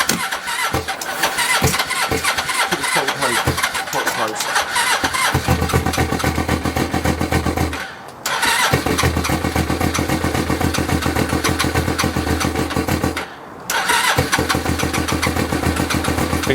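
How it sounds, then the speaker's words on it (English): A custom cafe racer motorcycle engine cranks over with the choke on, catches and settles into a loud, close, steady idle with a couple of brief drops in sound, and no talk over it. "Right, ignition on. Choke on."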